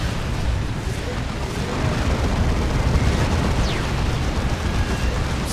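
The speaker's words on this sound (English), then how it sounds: "And a rocket run." Rocket run explosions in Dawn of War 2 make a dense, loud, continuous roar of blasts and booms in a Warhammer 40k battle.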